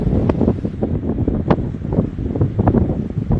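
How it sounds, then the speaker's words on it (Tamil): Strong sea wind buffets the microphone in loud, continuous gusts on a rock at the Kanyakumari shore, roaring and rumbling throughout with no voices. "இந்த பாறை மேலே நின்று ரெண்டு பக்கமும் காற்று அடிக்குது"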